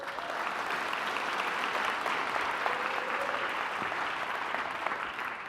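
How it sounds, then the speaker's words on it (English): An audience at a business conference gives a sustained round of applause, dense and even throughout with no voices over it. "And round of applause for these guys."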